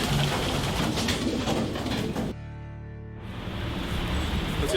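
Racing pigeons coo in a pigeon loft in South Africa, heard under a steady, loud wash of background noise that drops away briefly partway through before returning.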